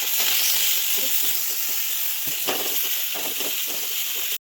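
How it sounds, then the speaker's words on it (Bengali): Onion paste frying in a pan over a low flame for a Bengali katla fish kalia, giving a steady close hiss and sizzle with small crackles throughout. "লো ফ্লেমে দিয়ে এটাকে আমি ভালো করে"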